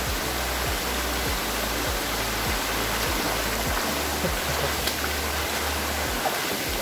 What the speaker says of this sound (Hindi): और एक झरना आ गया।